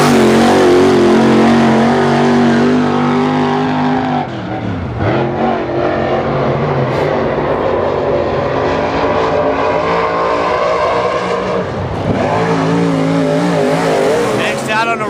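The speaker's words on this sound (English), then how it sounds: "Out on the racetrack, you got Todd Darda in the 91 GRT crate car" A GRT crate race car roars around a racetrack, its loud engine droning steadily and dipping twice as it passes by and revs back up.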